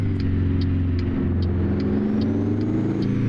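An International 4170 truck with a 13-speed gearbox in American Truck Simulator drones with a steady low engine rumble, broken by rhythmic faint clicks as gears are split and shifted, with no talking.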